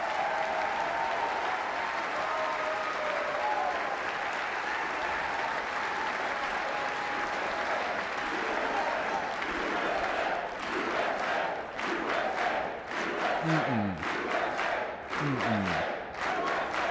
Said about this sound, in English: A whole lot of really despicable people are cheering